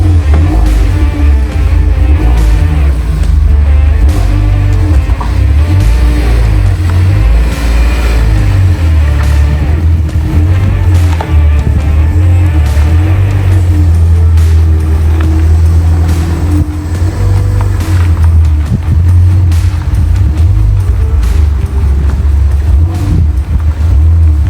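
The faulty engine of a cheap, broken Fiat 500 that sometimes cuts out idles loudly and steadily as the car is moved, with a heavy low rumble and wind buffeting the microphone throughout, with no talking.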